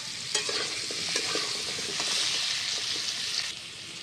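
Potatoes and pumpkin frying in a kadai, a steady close sizzle with stirring scrapes and light clinks throughout, no voices.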